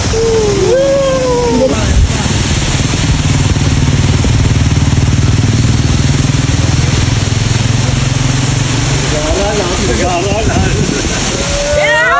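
A motorcycle engine drones steadily up close, mixed with wind buffeting and the wash of water, while voices call out over it.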